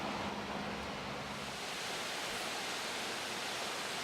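A raging channel of water rushes toward the waterfall at Clifty Falls State Park, a dense, steady roar of broadband noise, loud and constant throughout with no voices.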